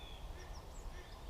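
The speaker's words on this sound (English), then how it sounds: "You can hear all the birds and the ducks." Ducks and other birds call at a nature reserve in early morning, faint honking and chirping notes scattered over a steady outdoor hiss, fairly distant.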